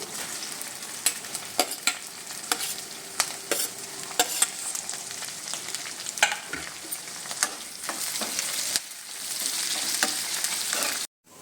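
Onions with garlic and green chillies fry for dal fry, crackling in oil under repeated quick spoon scrapes and taps against the pan, with a denser sizzle swelling near the end before it cuts off.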